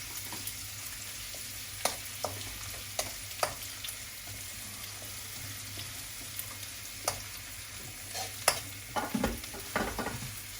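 An eggplant omelette fries quietly in a pan under a soft, continuous sizzle, broken by scattered sharp clicks and scrapes of stirring, with no voices.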